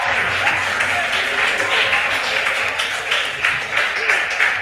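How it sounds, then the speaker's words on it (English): Steady applause from a crowd at a school quiz contest, continuous clapping held at an even level throughout, fairly close. "Let's give them a round of applause."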